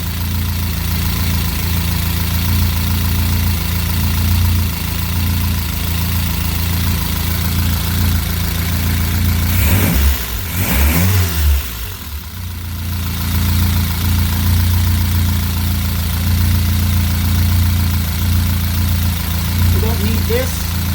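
A 1979 Fiat Spider 124 engine idles low at about 750 RPM, a steady, loud, close rumbling drone with a brief disturbance partway through before settling back into its even idle.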